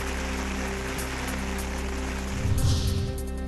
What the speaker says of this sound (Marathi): ठाण्यात मुसळधार।